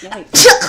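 A single sharp sneeze bursts out right after a brief spoken word, close and loud.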